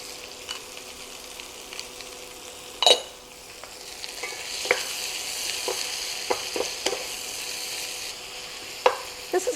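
Food frying and browning in oil in a pan, a constant soft sizzle broken by occasional stirring clatters and utensil scrapes, close and fairly loud.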